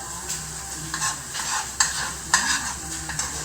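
Onions sizzle and fry in a hot pan for a breakfast pie, with a spoon stirring and scraping in several distinct strokes over steady close frying.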